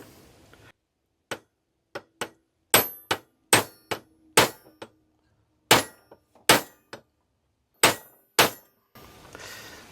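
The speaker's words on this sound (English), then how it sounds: "let's give her a good whack. I think I need a little heavier hammer too." Sharp metallic hammer blows on a driveshaft U-joint, around a dozen loud, ringing whacks at irregular intervals with short silent gaps between them.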